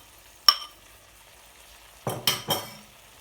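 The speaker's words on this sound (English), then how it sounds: "So what we're going to do now is add in tomatoes." Two chopped tomatoes tumble into a hot pan of mutton curry base with a soft clatter, then a few sharp scrapes and clinks of a spoon stirring, close and fairly quiet with no talking.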